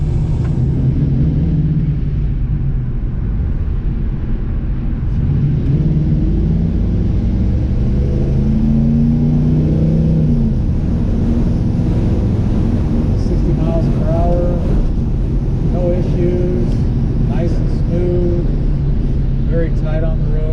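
1968 Chevy C10 truck with a 5.3L Vortec engine downshifting: a loud, steady engine drone whose pitch sweeps up and down, with continuous road rumble and voices talking over it.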